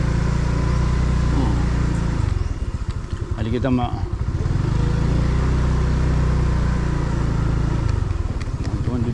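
A motorcycle engine runs close by with a steady, buzzing putter that swells and fades, while a person talks over it.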